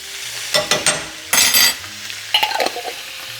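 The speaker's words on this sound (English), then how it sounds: "Let's go ahead and add in some minced garlic." Minced garlic frying in a pan for a cabbage dish: bursts of scraping stirring and sizzling come in short rounds over about three seconds, close and fairly loud, with brief utensil clatter against the pan.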